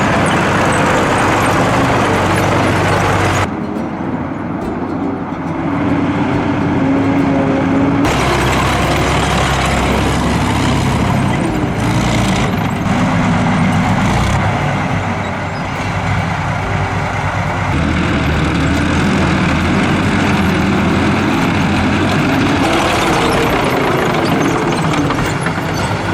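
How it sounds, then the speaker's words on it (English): A heavy tracked machine, a ROME TRCW-24 offset disc rig, gives a loud, sustained engine roar with deep rumbling throughout, the level surging and dipping slightly over about 26 seconds with no voices. "Then suddenly the engine roars violently."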